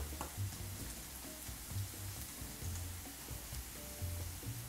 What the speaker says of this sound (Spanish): Y aquí lo tenemos pochando aproximadamente 1 minuto, dándole vueltas para que no se nos queme abajo